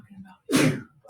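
A single close, loud sneeze bursts out sharply mid-clip and fades within about a third of a second, framed by soft voice sounds just before and after.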